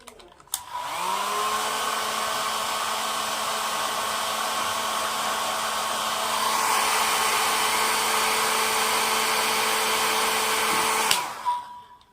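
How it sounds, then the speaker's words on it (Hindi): A hair dryer blows hot air steadily and loudly for about ten seconds, a continuous whirring hum that shifts slightly in pitch midway before switching off near the end, with no talking. "गर्म हवा दे दूंगी ड्रायर से।"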